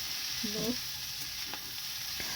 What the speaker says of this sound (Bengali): তাই বড়িগুলো ভেজে নিচ্ছি।